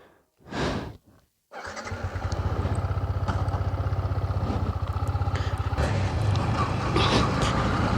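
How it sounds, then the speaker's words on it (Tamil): A motorcycle engine cranks briefly, then catches and settles into a loud, steady close idle with a rapid even pulse, with no talk over it. "இப்போ வண்டி ஸ்டார்ட் ஆகும்."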